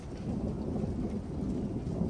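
Steady downpour of big raindrops from a severe thunderstorm with a deep rumble beneath it, the rain drumming continuously and loudly, no talking.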